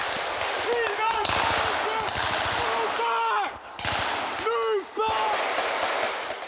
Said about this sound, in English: Too many of his shots are going wide